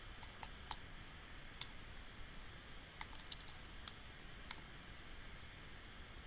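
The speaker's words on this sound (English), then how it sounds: "let me type the word print correctly" Fingers type on a computer keyboard: quiet, irregular clicks and taps, some in quick clusters, heard close over a soft hiss with no talk.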